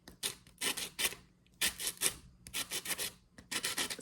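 Sandpaper lightly rubbing leftover paper napkin off a pumpkin craft, a series of soft, close scratchy strokes in quick irregular bursts with short pauses between.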